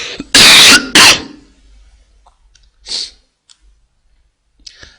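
Two loud, harsh coughs come in quick succession close to the microphone, then fade into near silence broken by faint small clicks.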